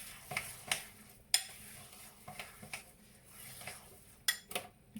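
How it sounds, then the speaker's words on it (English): A thickening mixture stirred in a pot, irregular scraping and knocking strokes of a spoon against the sides, each stroke distinct with quiet gaps between, close and without speech. "Getting a bit stiffer to stir now."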